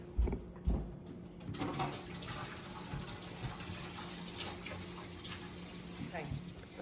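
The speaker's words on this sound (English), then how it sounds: "let me wash my hands real quick." Tap water runs steadily into a kitchen sink while hands are washed, a faint continuous splashing wash after a couple of brief knocks at the start.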